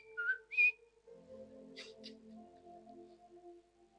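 Someone whistles by blowing across a key during a church service, giving two short, shrill high notes, each quick and fairly near, before a soft, low background drone of music takes over.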